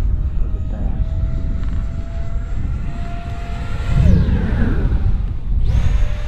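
Marlin 64mm EDF model jet flying aerobatics, a high electric ducted-fan whine that holds steady, then drops sharply in pitch as it rushes past, with a second pass sweeping through near the end.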